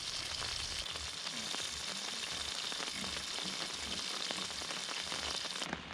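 Meat fries in a pan outdoors beside a house during rain, giving a steady, close sizzle that crackles evenly throughout without pause.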